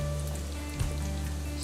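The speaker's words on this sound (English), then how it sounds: "This is the frying process." Eggplant slices frying in oil for eggplant parmesan, a dense, continuous crackling sizzle close up with a low steady hum beneath, holding even throughout.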